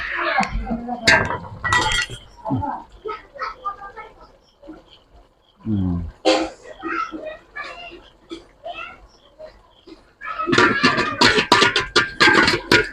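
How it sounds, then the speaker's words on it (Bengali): Duck curry being stirred in a pot gives close metallic clinks and scrapes of a utensil against the pot, a brief burst early and a busier run near the end, with a person talking in between. "একটু নাড়াচাড়া দিচ্ছি"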